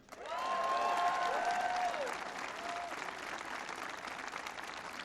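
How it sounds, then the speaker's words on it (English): A large audience at Nike world headquarters breaks into sustained applause for senators and representatives, a broad wash of clapping with a brief whistle or cheer early on, loud at first and then settling. "you should give them a round of applause as well"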